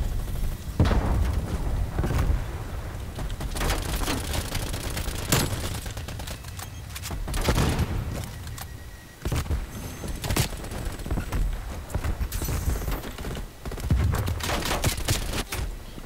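OTS 9 submachine gun fire in Call of Duty Cold War, with rapid bursts, booms and explosions crowding a busy battle scene, loud and continuous with no speech.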